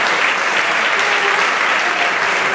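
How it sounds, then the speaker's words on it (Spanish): An awards-ceremony crowd applauds the arriving mayor of Castro de Filabres, a loud, dense wash of clapping from many people that stays constant. "Un aplauso para el alcalde de Castro de Filabres."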